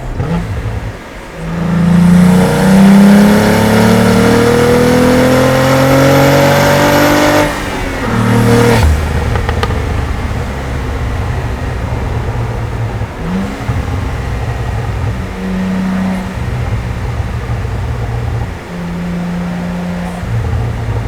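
A Cadillac CT4-V Blackwing engine and exhaust roar in a hard third-gear pull, loud rising revs that climb steadily before the throttle lifts, then a lower cruising drone with brief blips.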